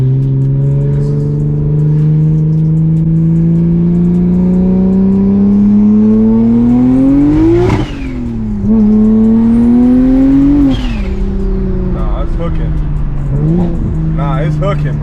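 A big-turbo BMW 335i on Nitto drag radials accelerates hard, its engine note climbing steadily through two long pulls with a brief dip at the shift, loud and close from inside the car.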